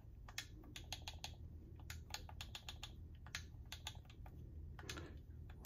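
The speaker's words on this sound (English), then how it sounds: "Sorry, I have to type with my left hand." Someone types on a computer keyboard with only the left hand, producing quiet, uneven clusters of key clicks with short pauses between bursts over a low background hum.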